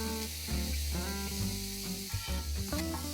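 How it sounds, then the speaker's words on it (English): Finely chopped tomatoes fry with pav bhaji masala in a pan, a steady close sizzle with occasional stirring scrapes and pops under a soft musical backing. "I'm going to fry this till the tomatoes are nice and mushy."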